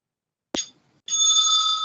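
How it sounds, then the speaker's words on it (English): A debate timekeeper rings a bell: one brief metallic strike, then after a short pause a clear sustained ring, loud and alone. "The timekeeper will ring the bell once."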